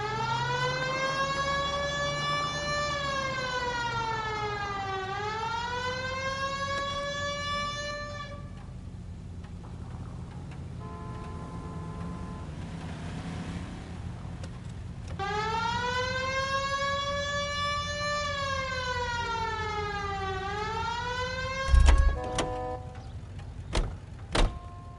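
A police car siren in a video game wails, rising and falling in long sweeping cycles, loud and close, pausing briefly before starting again, with a few thumps near the end.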